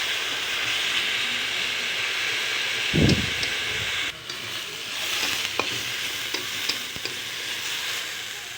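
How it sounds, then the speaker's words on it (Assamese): Continuous loud sizzling of spices frying in a hot pan for a paneer and chickpea dish, with a low thump and scattered light scraping clicks as the food is stirred. "এইখিনি আৰু 1 মিনিটমান মই এনেকৈ ভাজিম।"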